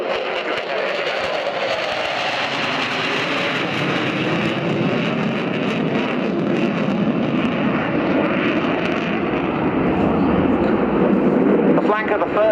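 A Sukhoi Su-27 Flanker fighter jet roars through a flying display at the RIAT airshow, a loud sustained engine rumble with wind noise and a commentator talking over it.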